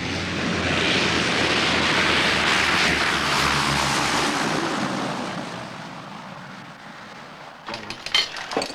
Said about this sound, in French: vers 17 heures, notre Twin Otter touche la piste de Wedge Hill